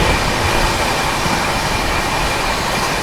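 The 12907 Maharashtra Sampark Kranti Express from Mumbai to Delhi runs through Bharatpur Junction with a loud, steady rail rumble and wheel noise throughout. No voices are heard.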